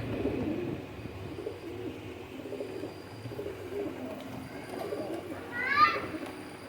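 Rampuri pigeons coo in soft, low, throaty murmurs, with a brief chirp near the end, under quiet voices talking nearby.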